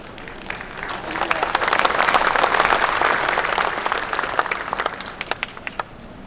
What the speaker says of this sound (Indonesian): Memang tepuk tangan itu kalau tidak ada sepedanya tidak terlalu keras.